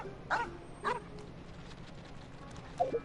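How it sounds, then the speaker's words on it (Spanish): A small dog in the video game Genshin Impact gives three short barks, two close together at the start and one near the end, moderately loud over a quiet background. "Ah, ven un perrito."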